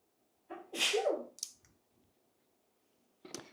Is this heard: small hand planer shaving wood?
no